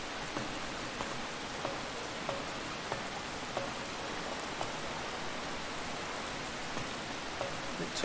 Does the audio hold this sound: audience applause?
no